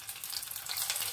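Chana masoor dal pakoras deep frying in hot oil, a steady, close bubbling sizzle that runs without pause through the short moment, with no voices.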